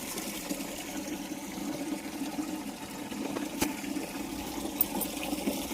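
Water flowing steadily onto garden plants, a continuous even rush of running water with no break, heard alone throughout.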